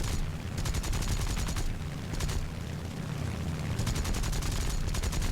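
Aircraft guns of an A6M3 Mod 22 fighter in War Thunder, loud rapid bursts of fire in several stretches over steady engine roar.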